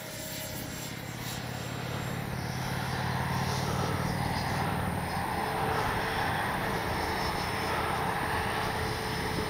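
A Freewing 70mm F9F-5 Panther radio-controlled jet flies at full speed into the wind, its ducted-fan whine and rushing roar steadily growing louder, with no voices.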